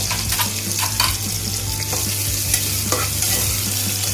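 Onions fry steadily in hot oil in a pan, a loud continuous sizzle and crackle with occasional stirring scrapes, close up and without any voices.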